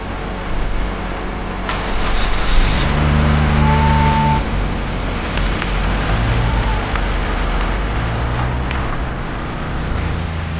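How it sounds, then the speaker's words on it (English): A Volvo XC70 with a leaking power steering system drives on the road, a loud steady engine and road rumble with wind noise and a brief tonal whine partway through. "We're taking my Volvo XC70, which still has a massive power steering fluid leak."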